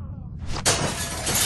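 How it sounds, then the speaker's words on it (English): Glass shatters in The Walking Dead video game: a sudden, loud crash that breaks into a sustained bright spray of tinkling shards lasting to the end. "Watch out for broken glass."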